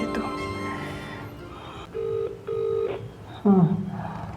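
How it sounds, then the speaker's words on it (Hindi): A mobile phone ringtone plays in short electronic bursts with brief gaps, fairly close and clear, while someone speaks over it. "ये किसका फोन आ रहा है?"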